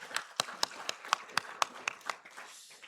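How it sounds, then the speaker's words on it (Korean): A church congregation clapping during a Sunday worship service, a short run of sharp, evenly spaced claps from a small group, fairly faint and fading out after a few seconds. "영광의 박수 올려드리겠습니다."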